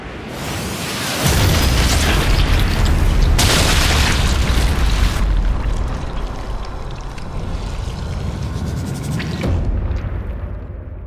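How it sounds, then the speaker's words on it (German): A grenade goes off in Sniper Elite 5 with a sudden loud boom, followed by a long, heavy rumble and debris noise that slowly fades over several seconds. "Runter! Granate!"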